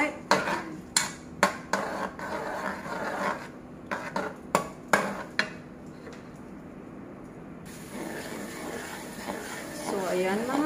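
Garlic stirred in a pan of oil that started cold, a utensil scraping and clinking against the pan in a run of sharp strokes, then a softer steady sizzle, with a voice talking over it.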